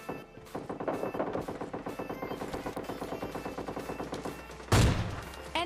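Rapid, regular bursts of automatic gunfire from PUBG Mobile Lite, a close, steady rattling volley with a heavier blast near the end, no talking.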